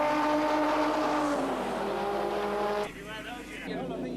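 A production race car at a 1988 championship round rounds Lodge corner toward the chequered flag, its engine droning loudly and steadily before the pitch drops as it eases off, with a commentator talking over it throughout.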